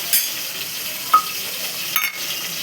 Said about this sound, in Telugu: కరివేపాకు వేసుకోవాలి, 2 ఫ్రెష్ది. అవి వేగినాక